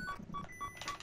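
Repeated electronic beeps from the Metroid video game, a short evenly spaced series of bleeps at moderate level with game sounds around them.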